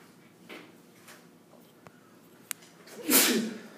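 A single sharp sneeze bursts out near the end, fairly close and loud, after a few faint bumps and clicks in a quiet room.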